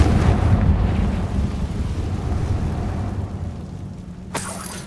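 In Hogwarts Legacy, a Confringo spell blast explodes with a heavy, loud boom and long low rumble that slowly fades, ending with a sharp bright crackle near the close.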